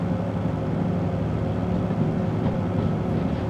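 A DM3 diesel locomotive in the Derail Valley railway simulator rumbles steadily with a deep, continuous engine drone and faint rail noise, loud and close throughout with no talking.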